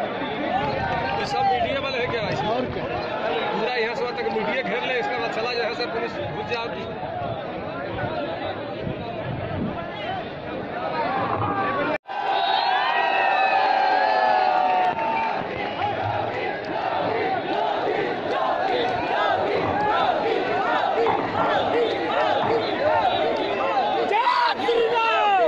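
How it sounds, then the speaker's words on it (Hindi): A large crowd murmurs and cheers continuously at a Vijay Sankalp political rally held at Krishak Inter College in Thanagaddi, Jaunpur, a loud, dense babble with a voice talking over it throughout. "भीड़ इकट्ठा हो रही है"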